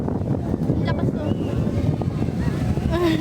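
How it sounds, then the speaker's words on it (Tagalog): Strong wind buffets the microphone in a steady, loud low rumble throughout, apparently outdoors near a boat on the water, with a person talking over it. "Ang lakas ng hangin. Ang lakas to."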